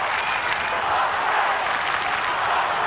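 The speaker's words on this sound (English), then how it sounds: "The crowd starting to roar." A football stadium crowd at a 1994 Australian Rules match between Footscray and Melbourne keeps up a steady, loud roar and cheer throughout, a broad wash of many voices.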